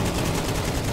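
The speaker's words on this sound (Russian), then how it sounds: "все пули куда-то полетели, непонятно, не пошла стрельба." Rapid gunfire from a Counter-Strike match, a loud, dense burst of shots filling the whole second with no talk over it.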